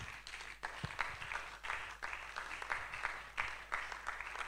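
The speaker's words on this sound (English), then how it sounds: "Let's keep clapping." Audience applause at a 2024 career conference session, a steady moderate clapping from a crowd lasting several seconds with uneven surges, fairly distant and no clear speech over it.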